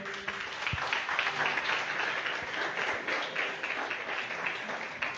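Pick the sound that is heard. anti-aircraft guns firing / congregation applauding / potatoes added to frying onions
congregation applauding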